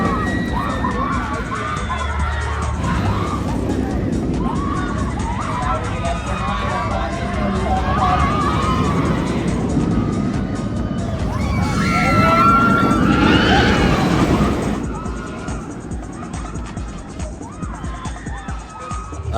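Front-car ride on the Flash roller coaster at Six Flags Great Adventure, a loud steady rumble of track and wind with riders shouting and screaming, swelling to a peak near the end before easing off.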